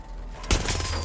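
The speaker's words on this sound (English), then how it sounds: "Are they shooting each other?" A sharp gunshot burst erupts midway through a Watch Dogs: Legion firefight, with a loud, broadband crack followed by a sustained rumbling tail and a steady low drone beneath.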